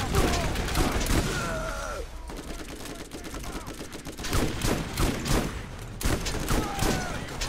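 A turret in the Borderlands video game fires sustained bursts of automatic gunfire, loud and continuous for several seconds, with heavy impacts and in-game effects layered on top.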